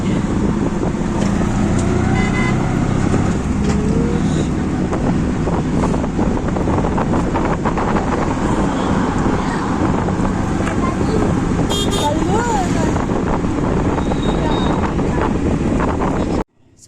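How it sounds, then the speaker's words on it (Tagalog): A busy roadside at dusk with many vehicles passing, a continuous wash of traffic noise under heavy microphone wind buffeting, with a short horn toot near the end. "Marami ng sasakyan na daan-daan."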